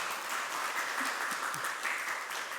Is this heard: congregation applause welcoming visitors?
yes